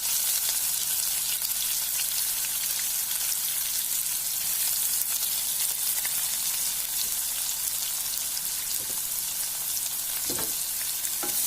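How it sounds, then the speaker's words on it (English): Onions sizzling and frying in hot oil with curry leaves and green chilies, a steady dense crackle throughout with a couple of brief stirring clinks near the end, no talking. "I'm going to add my curry leaves. In goes the onions."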